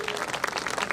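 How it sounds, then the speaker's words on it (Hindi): An audience claps loudly for children after a cultural dance performance at a New Year 2021 event in Mahoba, the applause dense and steady throughout. "इन बच्चों के लिए जोरदार तालियां बजा दीजिए"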